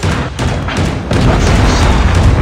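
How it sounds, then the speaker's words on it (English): A Predator missile explodes in a Call of Duty match on the Oil Spill map, a loud, sustained, rumbling boom that fills the whole moment amid ongoing battle noise. "Friendly Predator missile inbound."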